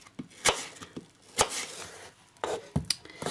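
A knife cuts apples on a board, giving a series of sharp irregular chops, close and fairly quiet, with short pauses between strikes and no talk.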